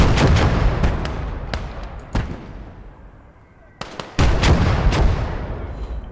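Artillery guns boom repeatedly in a war video game, loud blasts and rumbling explosions in irregular bursts with a quieter lull midway, a voice talking over the fire.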